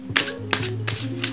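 A new tarot deck of heavy, smooth linen-finish cards is riffle-shuffled up close, three quick papery bursts of flicking cards with soft handling between them, no voices.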